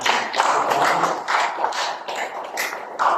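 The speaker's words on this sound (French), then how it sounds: "un applaudissement pour Henri" A small audience at a public forum in Mauritius claps loudly and close by. The clapping comes in several quick bursts with short lulls between them, and no one speaks.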